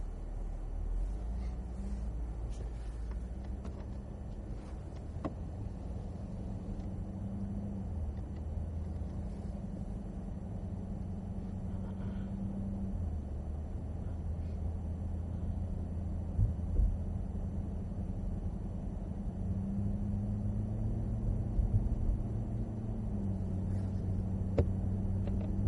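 A Cadillac CTS-V cruises slowly in gear at Sonoma Raceway, heard from inside as a quiet, steady low engine drone whose pitch shifts gently over time, with a few faint clicks and no talking.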